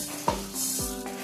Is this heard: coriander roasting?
yes